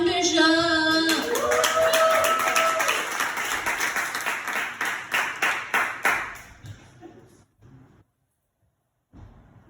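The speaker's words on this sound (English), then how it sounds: "I think we should clap extra hard for him because of that" Audience at a comedy show clapping for comedian Sean Bishop, a dense burst of applause that thins into scattered claps and fades out over several seconds.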